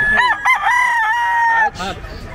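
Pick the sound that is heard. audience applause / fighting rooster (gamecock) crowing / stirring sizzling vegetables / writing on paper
fighting rooster (gamecock) crowing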